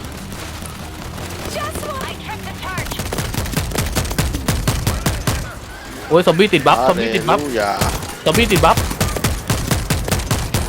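Gunfire from the video game World War Z crackles in rapid, repeated bursts of sharp shots throughout, with excited talking over much of it.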